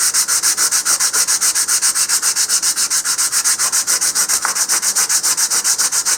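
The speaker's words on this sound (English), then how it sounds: "here I've got 150 grit" Steady, close rasping strokes of 150 grit sandpaper worked with the grain over filler on a Dyna-Star Grappler model rocket, a continuous even back-and-forth rhythm with no talk.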